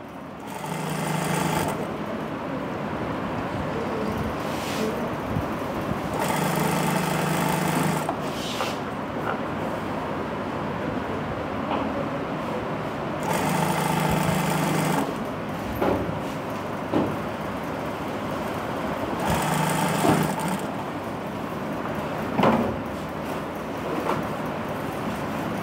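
Sewing machine stitching fabric in several bursts of rapid whirring, each a couple of seconds long, separated by quieter pauses with handling noises, close and clear.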